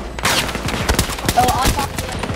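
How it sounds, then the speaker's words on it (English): Rapid automatic gunfire in the shooter game Battlefield 2042, a dense rattling burst of shots up close, with a player's voice talking over the fire. "There's heavy shots."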